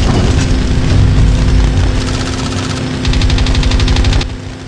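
In the video game Huntdown, a vortex cannon fires a rapid burst of pulsing shots over a constant low engine rumble during a boss fight, loud and close.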